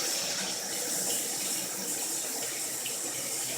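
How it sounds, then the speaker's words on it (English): Tap water runs steadily from a faucet while hands are washed under it, a close, continuous hissing splash with no talk. "Let me wash my hands."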